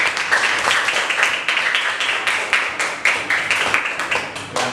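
A classroom of children claps together in a lively, uneven patter, hands striking in quick bursts that rise and fall in rough rhythm, close and moderately loud.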